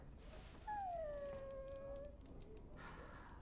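A dog in the Dragon Age Origins game gives a long, falling whine that bends downward and fades, one drawn-out whimpering cry heard close and clear over soft game ambience.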